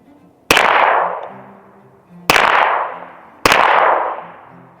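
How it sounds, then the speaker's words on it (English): Three sharp, loud 9mm pistol shots are fired through a suppressor with regular rounds, each a cracking bang with a ringing tail that fades over about a second, spaced irregularly, while faint metallic tones hum underneath. "9mm pistol with regular rounds and suppressor this time."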